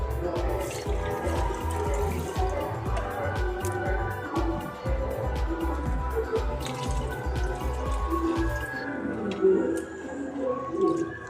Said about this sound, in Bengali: চালটাকে আমি ভালোভাবে ধুয়ে নেব।